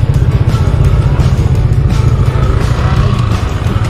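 Motorcycle engine running loud and close on an endurance ride, a throaty low rumble that pulses and revs steadily without pause.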